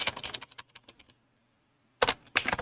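Rapid keystrokes clatter on a computer keyboard while a search is entered, a burst of close typing, a pause of silence, then another quick flurry of keys.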